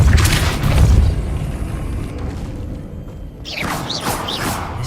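The Depulso spell in Hogwarts Legacy, a video game, lands with a loud, low boom and a rumbling blast. The roar fades into lighter crackling and magical swishes near the end, with no talk.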